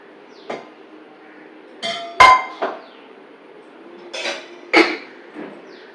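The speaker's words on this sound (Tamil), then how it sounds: "இதில் இந்த மாரி பூசணிக்காயை இதில் போடுறோம்" White pumpkin pieces drop into a cooking pot of dal as several separate, fairly loud knocks and clinks spread unevenly over a few seconds.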